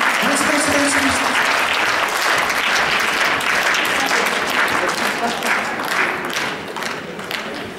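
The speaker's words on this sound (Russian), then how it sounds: "Эти две очаровательные барышни поднимаются под ваши аплодисменты" An audience applauds at a prize-giving event as two young women come up to the stage, a loud sustained roar of clapping with a brief voice early on, gradually tapering toward the end.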